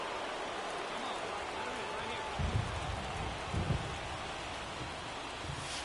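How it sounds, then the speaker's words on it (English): Steady rain hisses across a baseball stadium during an MLB 2024 video game, a continuous broadband wash with a few low rumbling swells midway, while commentary voices talk underneath. "This rain is not letting up"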